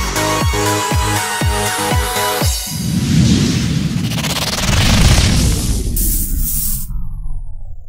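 A quick series of sharp pops and whistles, then a loud booming sky shot burst followed by crackling firecrackers that fade out.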